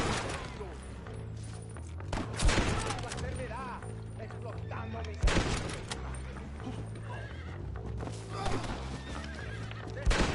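Horses whinny and hooves clip-clop through a Red Dead Redemption chase scene, broken by loud bursts of gunfire at intervals over a constant game soundscape, with character voices speaking at times.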